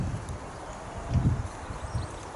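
Horse hooves clip-clop at a walk, several soft low thuds in an uneven rhythm, fairly faint and close, with a light hiss of background noise and no talking.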